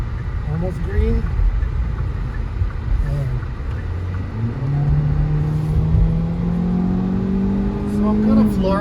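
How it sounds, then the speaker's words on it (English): A 2022 Hyundai Elantra or 2022 Nissan Sentra accelerating hard at full throttle in sport mode, its engine note climbing steadily in pitch and growing louder, with a voice talking over it. "So I'm kind of flooring it. It's louder."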